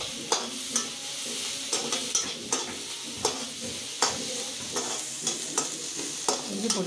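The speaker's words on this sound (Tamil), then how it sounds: "வெங்காயத்தையும் போட்டு நல்லா ஒரு அஞ்சு நிமிஷம் வதக்கணும்" Onions and green chili sautéing in a pan, a steady close sizzle broken by regular scraping stirs of a spoon against the metal, with no talk over it.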